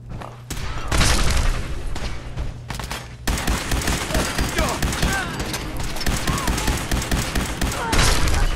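Gunners' gunfire in the Fallout 4 video game: dense, loud bursts of automatic and single shots with thumping booms, crackling almost continuously with only brief lulls.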